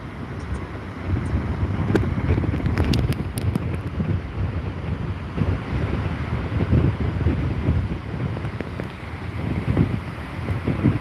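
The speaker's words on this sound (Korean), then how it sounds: "바람이 지금 반대 방향으로 불어서 바다 쪽으로 불어서 부서진 파도가 다 이쪽으로 안 날라오고 반대로 날라갑니다" Strong typhoon wind buffets the microphone on the Jeju coast during Typhoon Bavi, a continuous low roar with gusting surges and a rushing sea beneath, no talk.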